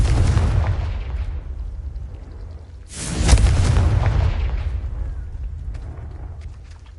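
A Confringo blasting spell explodes in Hogwarts Legacy: a loud booming blast fades over a few seconds, then a second powerful explosion bursts and rumbles away into a long, low decay.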